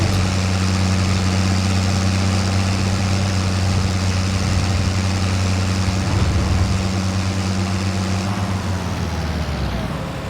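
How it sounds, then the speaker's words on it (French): A tractor engine in the farming game Farming Simulator 25 idles loudly and steadily, a constant close drone with a strong low hum that eases slightly near the end. "Il fait un barouf ce tracteur par contre."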